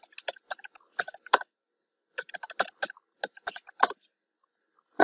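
Fingers type on a computer keyboard in quick clattering bursts, with a pause of silence between two runs of keystrokes.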